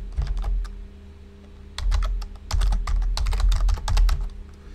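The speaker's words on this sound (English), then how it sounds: "in here we're going to type XML" Keys clatter on a computer keyboard while XML is entered, close and clear, in uneven bursts of rapid strokes with short pauses between them and a low steady hum underneath.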